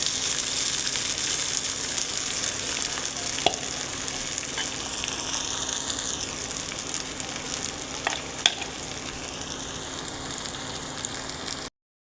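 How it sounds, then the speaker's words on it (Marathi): Usal is stirred into sabudana khichdi frying in hot oil in a kadhai, giving a steady close sizzle with occasional scraping clinks of the spoon against the pan and no talk. "आता आपण घेऊ ते उसळ टाकून।"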